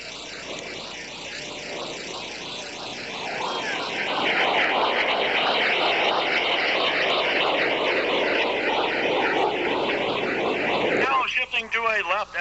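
Blue Angels jets roar at a 1986 Cleveland air show, a loud sustained engine rush that swells and holds as the formation passes, with a public-address announcer talking over it.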